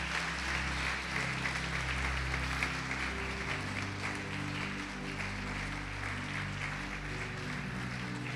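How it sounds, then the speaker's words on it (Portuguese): A church congregation applauds in praise, a broad, continuous patter of clapping layered over sustained low musical tones that carry on underneath. "Pode aplaudir o Senhor e glorificar Deus."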